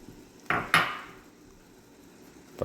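Kare-kare stirred in a pot, a utensil knocking and scraping against the metal twice in quick succession, then a long quiet stretch and a final clink at the end.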